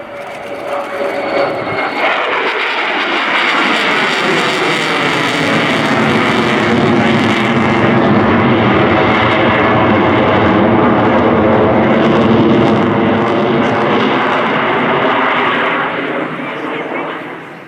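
An F-35B Lightning II jet performing a flying display roars loudly and continuously, swelling as it passes close overhead, with a broad engine rumble and a shifting whine that stays strong throughout before easing slightly at the end.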